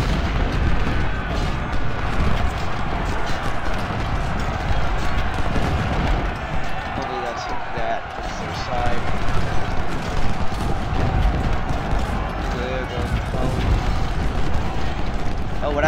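Infantry musket volleys and cannon booms from an Ultimate General: Civil War battle at Shiloh, a continuous rumbling din of distant massed fire with occasional voices over it.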